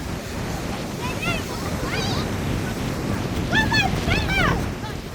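Surf breaking at Spray Point, Teignmouth, a continuous rushing wash with wind buffeting the microphone, while a voice speaks briefly over it and gulls call in short bursts.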